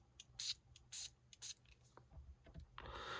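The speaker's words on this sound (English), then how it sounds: "and just spray lightly, and if you've got bumps and on there, doesn't matter" Distress resist spray is misted onto a piece of card in several short, sharp hissing bursts, close to the microphone, with quiet handling noises between them.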